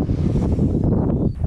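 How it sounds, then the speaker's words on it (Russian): Strong wind blows steadily across an open field during an outdoor coin hunt, producing a continuous, loud, low buffeting roar with gusty swells right at the microphone. "Распогодилось так, что начался сильный ветер"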